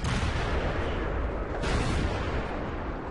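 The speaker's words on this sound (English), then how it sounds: "That was a bounce on my cupola." In a tank video game, a shell bounces off a tank's cupola amid a continuous loud roar of cannon and battle noise. A sharp impact crack cuts through midway, and no one speaks.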